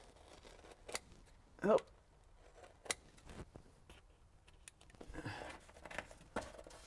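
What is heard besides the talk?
scissors cutting a radius in sound deadening material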